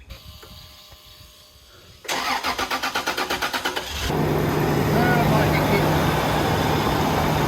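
A Toyota Prado 90 series cranks with a rhythmic starter chug for about two seconds, then catches and settles into a steady, close running idle, with people talking nearby.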